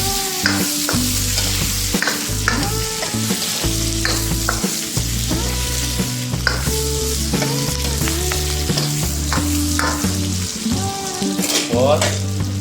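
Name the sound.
white part of onion frying in pan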